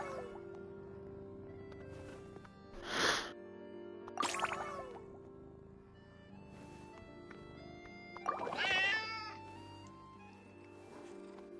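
A cat gives a few faint, drawn-out meows spaced seconds apart indoors, the last one longer and more wavering, in an otherwise quiet room.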